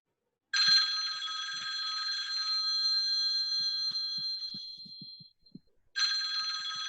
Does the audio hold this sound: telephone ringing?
yes